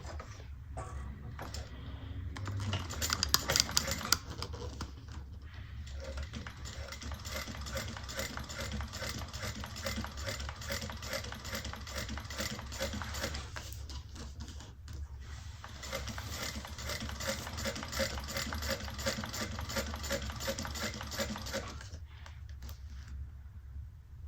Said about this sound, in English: I'm going to top stitch at 1/8 of an inch